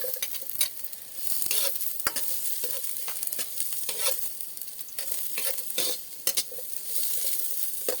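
Garlic and ginger sauté in a pan, a bright continuous sizzle broken by repeated scraping stirs of a utensil against the metal, several sharp clacks punctuating the frying.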